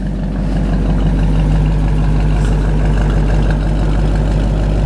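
An original 1964 Ford Galaxie idles with a steady, loud, deep rumble through its 2.5-inch TIG-welded sanitary stainless exhaust, an even low pulse running the whole time with no talk.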